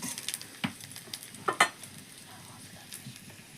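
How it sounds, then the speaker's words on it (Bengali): Whole spices, including bay leaves, dried red chilli, cumin, cardamom, cloves and cinnamon, sizzle in oil left over from frying fish, a quiet, close crackle broken by a few sharp scrapes and taps of a stirring spoon against the pan. "এবার মাছের তেলেতেই একটু ফোড়ন দেবো"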